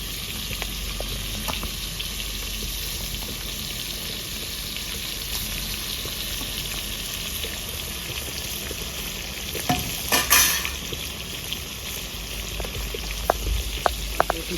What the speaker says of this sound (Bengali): বেশি ভাজবে না, শক্ত হয়ে যায় চিংড়ি, গলদা চিংড়ি।